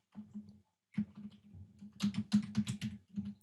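Computer keyboard typing in short bursts of clicky keystrokes, close and fairly quiet, with a brief pause before a faster run of louder taps.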